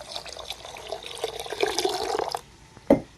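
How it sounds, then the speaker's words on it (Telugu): Water splashes and pours into a cooking pot that already holds green chillies, tomatoes, curry leaves and turmeric, a close, moderate gush for about two seconds, followed by a short clunk. "వాటర్ అయితే పోసేసుకొని"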